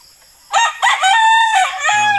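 A broodcock rooster crows once up close, a loud drawn-out call with a couple of rising breaks and a final low trailing note, heard alone.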